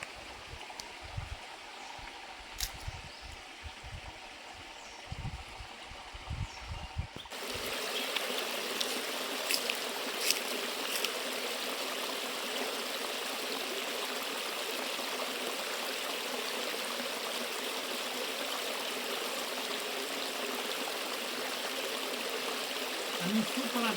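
Rushing mountain stream on the Sathuragiri hill trail, heard up close as a steady, loud wash of flowing water, preceded by a few seconds of quieter trickling and scattered handling knocks.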